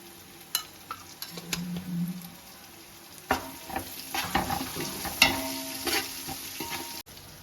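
Whole spices and ground shahi jeera sizzle in hot oil for mutton biryani, stirred with a spoon that scrapes and clinks against the pan in scattered knocks over a steady frying hiss.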